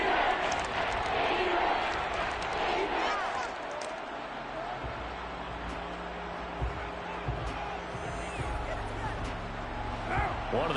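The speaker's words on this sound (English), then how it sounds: "The crowd getting into it as we come up on a big 3rd down." Stadium crowd noise in the Madden 23 American football video game, a steady roar building ahead of a big third down, running continuously under commentary.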